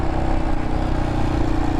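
Royal Enfield Himalayan motorcycle engine on the steep Hardknott Pass, a loud, close, low rumbling drone held at steady revs with a throbbing pulse, running continuously and alone.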